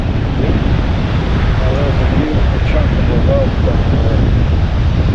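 Steady wind sweeps across an island beach on the Gulf shore, with storms nearby. It roars continuously into the microphone as loud, broadband buffeting that masks faint surf and distant voices.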